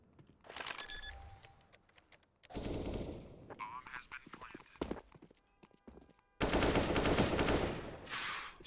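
Rapid gunfire bursts and single shots from Counter-Strike: Global Offensive in a competitive league match, sharp repeated cracks clustered in several volleys with game effects between them, under excited esports commentary.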